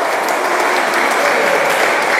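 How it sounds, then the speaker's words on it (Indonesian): Worship congregation in an army brigade barracks hall erupting in loud, steady applause and cheering, a dense continuous roar of clapping with no talk over it. "Berikan sorak-sorai buat Tuhan kita yang dahsyat luar biasa."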